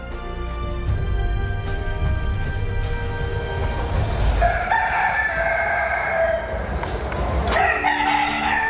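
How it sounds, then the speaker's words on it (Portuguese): Rooster crowing in a stage musical of the Passion of Christ, a loud, drawn-out crow rising over a sustained musical backdrop, followed by a second, shorter call. "O galo cantou."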